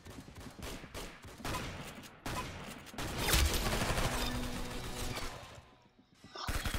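Rapid gunfire bursts from a Mag 7 shotgun and other weapons in the Roblox game Arsenal, loud and dense with overlapping shots and impacts, easing briefly near the end before another burst.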